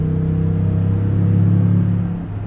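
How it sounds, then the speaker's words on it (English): A 2020 Toyota Tundra TRD Pro pickup with a TRD exhaust accelerates with a steady, deep engine drone and rumble, heard from inside the cab, loud and continuous. "TRD exhaust. Engine working to get this big beast up to speed."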